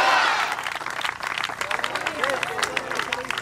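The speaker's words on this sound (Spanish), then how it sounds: "Un aplauso a Cristo si puede." An evangelical church congregation claps and applauds in a broad, dense wash of clapping, with a preacher's voice talking over it.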